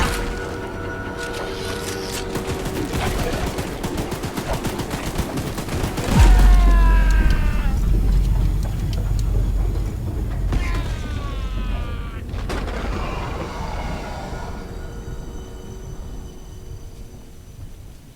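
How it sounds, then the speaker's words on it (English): Rapid bursts of mounted-gun fire in the train-horror video game Choo Choo Charles, a dense sustained fusillade with a heavy boom near the middle, loud and continuous over game sounds. "Light him up! Light him up! Careful! Don't let the gun overheat!"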